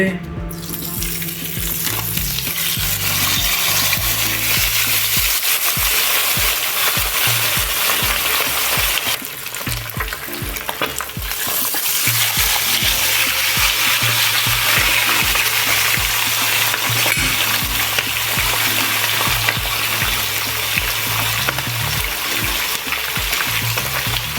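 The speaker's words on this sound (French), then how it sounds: "vous voyez comment les poissons là sont en train de faire frire et ça ne saute pas du tout" Fish sizzles steadily in hot oil in a pan, a loud continuous crackle that holds for the whole stretch, with some stirring and faint kitchen noises and no talk.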